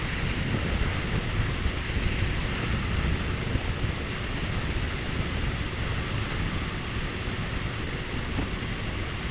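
Heavy headwind buffeting a Yamaha V-Max 125 motorcycle climbing uphill in fifth gear: constant loud rushing roar of wind against the microphone, dense and unbroken, with engine sound buried beneath it.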